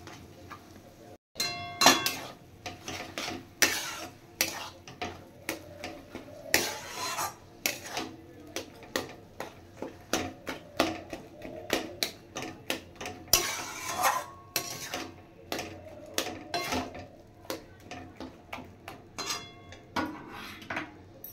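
Boiled, mashed potato being mixed together in a bowl, with steady scraping, rubbing and light clinking of a utensil against the bowl in an irregular rhythm, close and moderately loud, with no talk.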